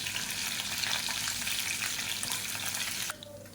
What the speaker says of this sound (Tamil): பச்சை மிளகா எண்ணெயில் நல்லா வதங்கட்டும்